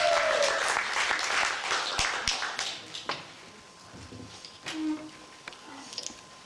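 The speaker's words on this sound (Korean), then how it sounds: "여러분 박수를 부탁드리겠습니다" Fairly quiet applause from an audience at a Korean language speech contest for foreign workers, strongest at first, then dwindling into scattered individual claps.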